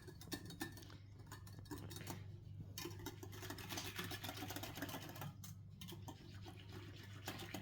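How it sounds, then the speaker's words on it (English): A whisk stirs a beef stew mixture in a bowl, with rapid repeated metallic scraping and tapping against the sides, close but very quiet, in short bursts with brief pauses. "give it a stir with the whisk"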